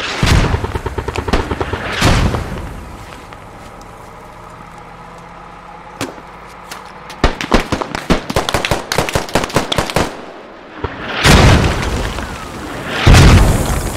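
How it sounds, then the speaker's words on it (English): Repeated mortar explosions in the Squad video game: heavy booming blasts in clusters, with rapid cracking bursts between them and two big, loud impacts near the end. "Those mortars are good."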